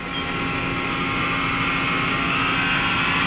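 A Mori Seiki NL3000Y CNC turning center running its live milling tool at 1,100 RPM gives a steady, loud mechanical drone with constant tonal hum and no breaks.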